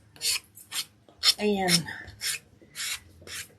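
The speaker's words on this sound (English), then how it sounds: "you can take and get your little sanding block and go around the edge just a little bit." A sanding block with sandpaper rubs along the edge of a wooden arrow shelf-sitter piece in a series of rhythmic, close, raspy strokes, with a brief spoken word among them.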